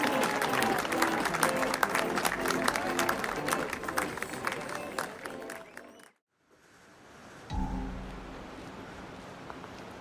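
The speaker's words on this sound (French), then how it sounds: "On peut applaudir encore une fois bien fort la vainqueur Xenia Chasteau." Applause from a crowd at the 2024 Roland Garros wheelchair tennis trophy ceremony, dense steady clapping with babble that breaks off, followed by a brief thump and softer background noise.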